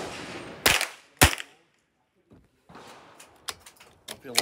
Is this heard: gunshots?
yes